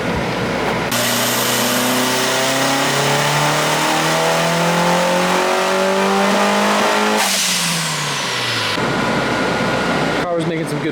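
Turbocharged Mitsubishi Evo 5 engine on a dyno, revving hard with harmonics climbing steadily for several seconds, then cutting off abruptly into a sharp blow-off, loud and close, with a voice talking over it.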